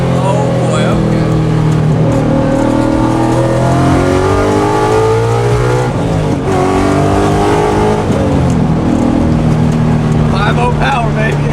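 A 1965 Ford Mustang widebody restomod with a Coyote V8 swap roars loud and close as it accelerates, engine note climbing through gear changes with brief dips, while people talk inside the car.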